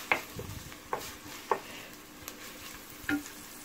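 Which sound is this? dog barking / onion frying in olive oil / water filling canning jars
onion frying in olive oil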